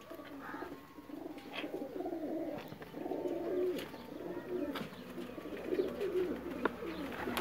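Sialkoti pigeons cooing nearby, repeated soft, throaty coos rising and falling over a quiet background, with a few faint chirps and clicks.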